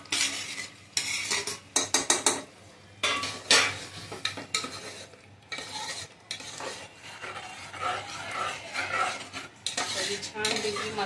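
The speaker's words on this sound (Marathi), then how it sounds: "छान असं तिला सगळा मसाला लागेल तशी हलवून पैकी घ्यायची" Marinated prawns stirred into masala in a pan, with repeated metal spoon scrapes and clinks against the pan over a soft sizzle, close and irregular, without any talk.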